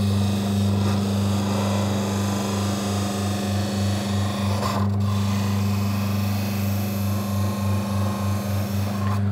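A tool being honed on a deburring wheel loaded with sharpening paste, set up in a Koch Vector sharpening jig: a steady, continuous rubbing hum with a strong low motor drone, plus faint scraping strokes of the edge against the wheel, close up.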